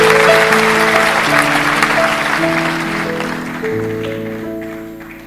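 A church congregation applauds and cheers during a worship service testimony, a dense sustained clapping crowd heard loudly throughout, with musical tones ringing underneath.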